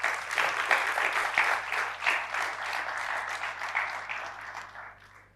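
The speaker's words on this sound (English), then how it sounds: "So please join me in applauding yourself for making this happen." An audience at a G20 India T20 policy event claps steadily in a dense, even wash of applause that holds for several seconds, then tapers off at the end.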